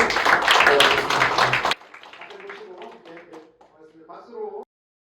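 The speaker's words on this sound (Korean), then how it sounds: "크게 박수로 함께 축하드리겠습니다" Applause from an audience at a Won Buddhist public event, loud and dense for under two seconds, then cutting off abruptly into quieter scattered sounds and a few voices.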